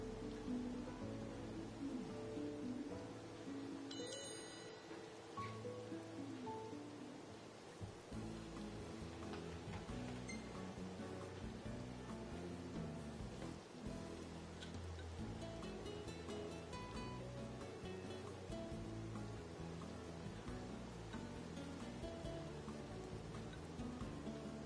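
Steady rain falls at a campsite in the video game Final Fantasy XV, a continuous soft patter with low rumbling water and ambient game sound running throughout at a fairly even level.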